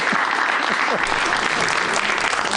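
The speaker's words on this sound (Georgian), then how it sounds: "აი კიდე არ გაჩერებულა ტაში" Loud, sustained studio audience applause on a Georgian late-night talk show, steady and dense throughout, with a host's voice speaking over the clapping.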